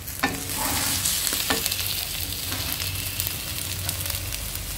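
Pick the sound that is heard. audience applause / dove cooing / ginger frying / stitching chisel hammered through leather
ginger frying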